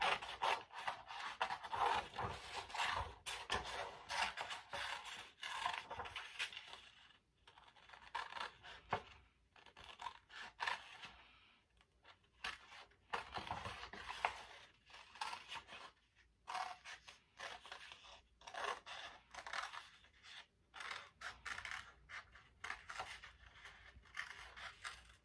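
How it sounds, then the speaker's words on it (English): Scissors snip and rasp through paper as a circle is cut out, with repeated close crisp cuts in bursts separated by short pauses and no talking. "And now we take a pair of scissors to cut it out."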